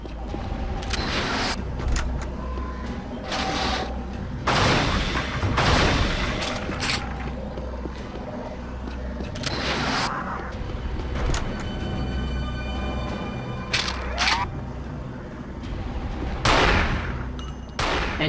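Sniper rifle fire in Unreal Return to Na Pali, several sharp, loud single gunshots spaced irregularly over a low droning game ambience, each blast followed by a brief ringing decay.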